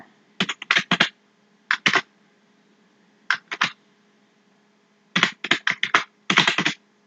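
Typing on a computer keyboard, with short bursts of quick, crisp key clicks separated by silent pauses, close and clear, with no talking.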